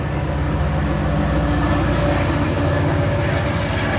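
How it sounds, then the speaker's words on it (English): A train passes close by outdoors, a loud steady rumble with rail clatter that fills the whole stretch without letting up. "Sorry for this train going by again."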